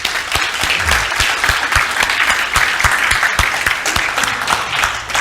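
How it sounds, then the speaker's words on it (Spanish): Loud applause from a crowd, dense clapping that holds steady throughout with no voices on top. "quiero que todos los varones les demos un aplauso"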